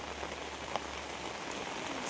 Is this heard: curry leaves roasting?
no